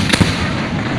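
Fireworks bursting in a couple of sharp, loud close booms over a dense crackling roar that fills the moment.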